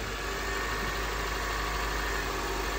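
A 2011 Honda CR-V engine idles just after a cold start, a steady close-up mid-pitched hum with even vibration and faint knocking, running alone without pause.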